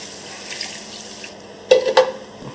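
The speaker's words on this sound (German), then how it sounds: "Nun gießen wir das mit der vorbereiteten Gemüsebrühe auf." Vegetable broth is poured into a cooking pan with tomato paste for a bulgur salad, a quiet trickle followed by two short splashing pours, with faint sizzling underneath.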